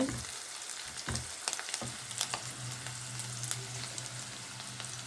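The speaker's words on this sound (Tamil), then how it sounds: "போட்டு நல்லா இப்படி கிண்டி விடுங்க" Garlic cloves sizzling softly in a pan for carrot chutney while being stirred, with scattered clicks and scrapes from the spoon over a low, steady fry.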